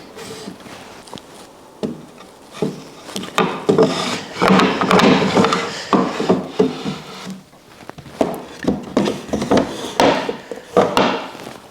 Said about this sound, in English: take a little bit of this balm, rub it on the top as well as the legs